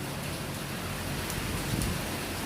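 Rain falls steadily during a storm, making a dense, even hiss that fills the whole clip with no pauses and no voices.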